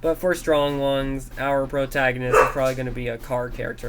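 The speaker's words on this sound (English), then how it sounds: "Sorry about the dog bark again" A dog barks in the background, a short bark breaking through while a person keeps talking over it.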